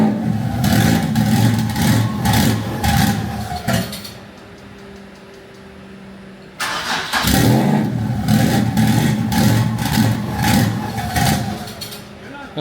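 A big single-turbo Nissan VQ37HR engine in a Patrol drift build roars loudly through repeated revs, drops to a rough idle for a few seconds, then revs hard again, with voices heard over it.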